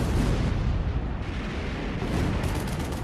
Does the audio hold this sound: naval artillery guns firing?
yes